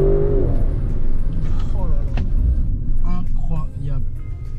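Engine of a 2021 Audi RS7 with 600 horsepower, a deep rumbling roar swelling and surging in bursts at close range, with voices talking over it.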